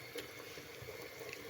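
Broth simmering in a pot for a mutton and vegetable dish, a steady low bubbling and gurgling close by, continuous with no talk.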